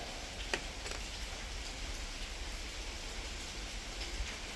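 Heavy rain pouring down outdoors, a steady broadband wash of hiss and patter that runs unbroken throughout, with a few brief splashy taps standing out near the start and end.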